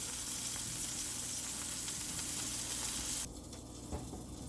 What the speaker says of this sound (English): Sizzling sausage.